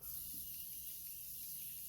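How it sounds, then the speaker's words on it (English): Face setting spray hisses from a pump bottle in a sustained, breathy mist lasting nearly two seconds, close to the microphone and fairly quiet, with no talking over it. "I'm going to spray my face one more time"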